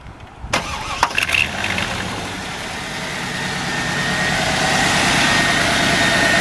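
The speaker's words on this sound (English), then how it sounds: "We'll go ahead and fire this one up for you." A 1994 Pontiac Formula T-Top coupe with a fuel-injected 275 horsepower V8 cranks briefly, catches with a sharp roar, then settles into a loud, steady, rumbling idle close by.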